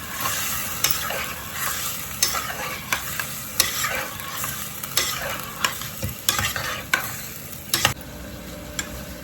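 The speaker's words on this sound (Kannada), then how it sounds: "ಒಂದು 2-3 ಮಿನಿಟ್ಸ್ ಈ ಥರ ಫ್ರೈ ಮಾಡ್ಕೊಂಡ್ರೆ ಸಾಕು" Vigorous stir-frying in a pan, a continuous hissing sizzle broken by frequent scraping and clattering strokes of a spoon, close and moderately loud, no voices present.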